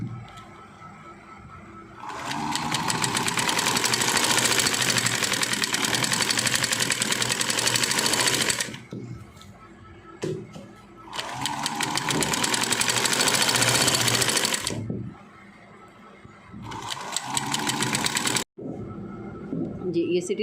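A sewing machine stitching lace onto the edge of trousers runs in long, loud, steady mechanical bursts, stopping and starting several times with quieter pauses in between.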